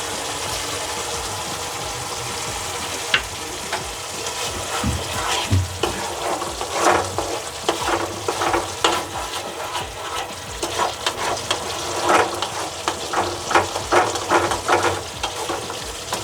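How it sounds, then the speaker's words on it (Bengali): Masala frying in oil in a pan for an egg tadka, stirred continuously, giving a loud, dense sizzle with wet scraping and bubbling textures that rise and fall with each stroke. "এরকম নাড়তে নাড়তে যখন তেলটা ছেড়ে যাবে তখন মশলা কষানো হয়ে যাবে"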